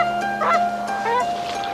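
Migrating birds call with a few short honking, goose-like notes over a steady hum, fairly near and clear, with no voices.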